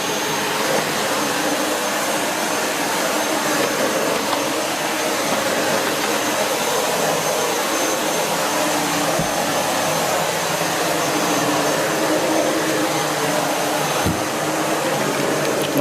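A 2013 SEBO Felix Rosso upright bagged vacuum cleaner runs indoors in a living room with a loud, steady motor roar and airy whine, with a couple of faint knocks.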